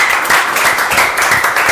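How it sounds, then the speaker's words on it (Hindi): Students in a classroom clap together during a maths lesson, a brisk, loud burst of many hands with a rhythmic, slightly pulsing pattern, no talking over it. "तो ताली तो भैया बजाओ"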